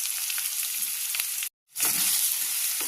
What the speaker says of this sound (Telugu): ఆనియన్ బాగా బ్రౌన్ కలర్ వచ్చేదాకా ఫ్రై చేసుకుందామండి